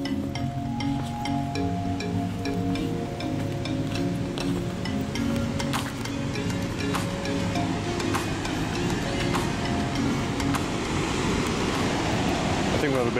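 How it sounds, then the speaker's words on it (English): Continuous rushing roar of water rapids at Christina Lake in British Columbia, a steady broadband wash that fills the scene, with people's voices briefly audible over it. "Hear the beautiful rapids."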